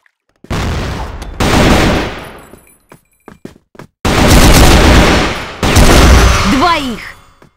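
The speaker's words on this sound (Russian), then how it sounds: "Граната пошла!" Loud gunfire and explosive blasts in the Crossfire Vietnam shooter game, with long sustained bursts separated by brief gaps and scattered single shots, close and dominant, with a voice briefly audible.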